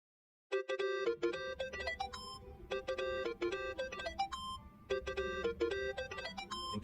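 A phone rings in the video game Yakuza: Like a Dragon, a bright electronic ringtone repeating its melodic pattern steadily and clearly over a low background hum, with no speech.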